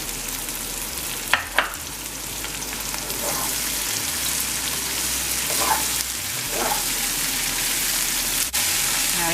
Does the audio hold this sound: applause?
no